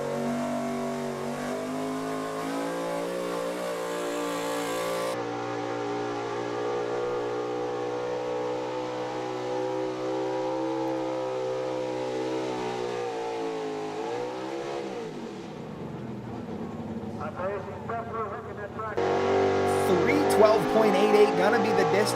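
A modified truck roars loudly on a hometown pull track at the Listie 2 Day Thunder, its engine sustained at high revs with a steady harmonic drone, dropping off briefly before surging again near the end.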